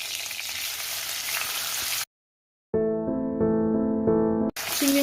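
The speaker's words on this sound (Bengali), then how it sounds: "চিংড়ি মাছগুলো ভাজা হচ্ছে" Prawns fry in mustard oil with a steady, close sizzle and crackle, broken by a brief silence and then a few seconds of bright, sustained tonal sound before the frying returns.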